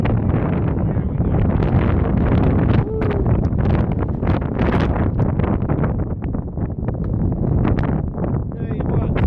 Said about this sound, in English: wind is ferocious today